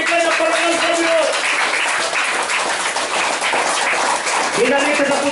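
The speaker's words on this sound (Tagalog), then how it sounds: "Lahat pumalakpak, magbigay ng parangal sa Diyos." Church congregation applauding together for a sustained stretch, a dense wash of clapping with a voice speaking over it at the start and end.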